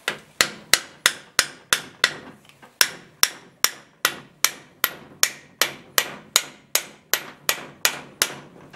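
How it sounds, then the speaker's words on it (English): A hammer taps a dummy shaft into a Willys T-90 transmission during a rebuild: about twenty crisp, evenly spaced metallic knocks, close and moderately loud, with a short pause near the start, no voices. "I'll give it a little tap."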